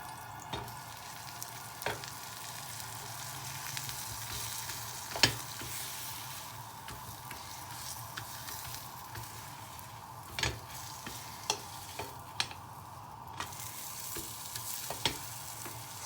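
Maggi rolls fry in butter in a pan with a steady, close sizzle and crackle throughout, broken by occasional light taps and scrapes as they are turned.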